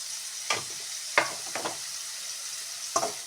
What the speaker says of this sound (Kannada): ಇದನ್ನು ಅದಕ್ಕೆ ಹಾಕಿ ಮಿಕ್ಸ್ ಮಾಡ್ತೇನೆ